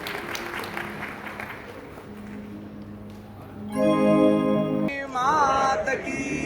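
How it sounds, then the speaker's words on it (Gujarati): Crowd applause at an evening patriotic tribute program in Junagadh hosted by the Parshuram Foundation, a steady clapping wash that fades out before music and singing come in loudly. "આ બધા માટે પણ આપણે એકવાર તાળીઓ પાડી દઈએ"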